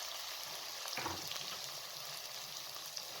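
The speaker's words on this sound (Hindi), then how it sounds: "इसके अंदर लहसुन और अदरक को शामिल करके 1 से 2 मिनट तक अच्छे तरीके से फ्राई कर लें" Onion, garlic and ginger frying in oil for a mixed dal, a soft steady sizzle with a brief louder burst of stirring near the start, fairly quiet throughout.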